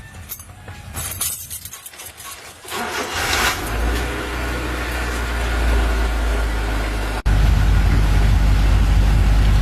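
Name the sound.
Honda Civic 96 engine started and idling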